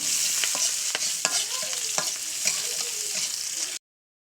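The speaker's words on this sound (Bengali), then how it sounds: "এবার সুন্দর করে লাল লাল করে ভাজে নেব।" Cumin, chopped garlic, green chilli and chopped onion fry in hot oil with a steady sizzling hiss, broken by repeated scraping strokes of a spatula stirring the pan, then the sound stops abruptly.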